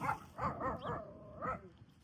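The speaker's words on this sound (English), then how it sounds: "What are you barking at?" A dog barks a few times close by, short muffled woofs with a slight whine in between.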